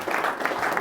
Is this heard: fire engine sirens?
no